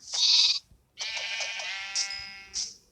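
Several video game sheep bleats in quick succession, clear and close, with short gaps between the calls.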